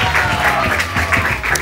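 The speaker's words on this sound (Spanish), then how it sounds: "Un aplauso para él" Applause from a television show audience after a contestant's sung performance is scored, a short burst of dense clapping that stays steady throughout under a raised voice.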